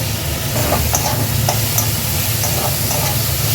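Bell pepper, capsicum and mixed vegetables stir-fry in a hot pan for mixed chow noodles, a loud continuous sizzle with occasional scraping stirs, close up and without speech.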